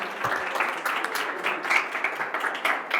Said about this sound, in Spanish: Les damos un aplauso para que suelten ahí